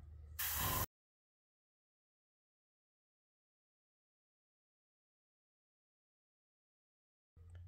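An airbrush laying a quick Cantor blue base coat on a miniature power sword lets out one short, sharp burst of hissing spray, followed by silence.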